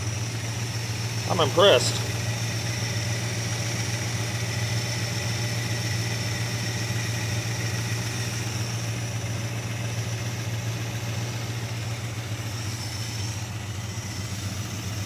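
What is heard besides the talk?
1969 Dodge Dart GT engine idling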